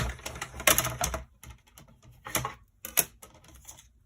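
A manual die cut machine being cranked as a paper and die sandwich passes through, giving irregular bursts of close, dry clicking and ratcheting with short pauses between.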